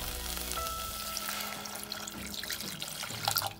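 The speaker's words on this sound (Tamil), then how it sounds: "இப்போ நம்ம தண்ணி ஆட் பண்ணிக்கலாம்." Water splashes into a hot pan of sautéed drumstick leaves while making soup, hissing and sizzling steadily with a broad wash of noise and a few clinks near the end.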